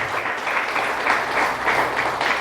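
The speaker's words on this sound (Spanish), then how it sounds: "Denle un fuerte aplauso al Señor" A church congregation applauds the Lord during a Spanish-language sermon. The dense clapping is loud and steady, with rhythmic surges and no talk over it.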